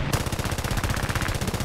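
An aircraft machine gun fires in War Thunder during an arcade air battle, a rapid continuous burst of rattling shots under steady engine drone; no talking.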